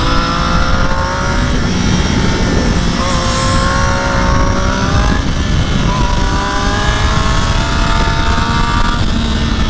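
A race car at Buttonwillow Raceway accelerates hard in 2nd gear, its loud engine rising in pitch in repeated sweeps as it revs up, close and continuous with no talking.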